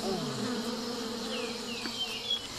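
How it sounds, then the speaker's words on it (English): Aggressive wild bees in Sri Lanka buzz steadily and close, several overlapping drones rising and falling in pitch as insects fly near. "This particular species of bee is extremely aggressive"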